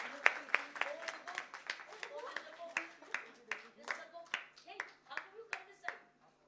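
Scattered hand clapping from an audience at a book launch event, with sharp individual claps in an uneven rhythm over a few seconds and voices calling out underneath.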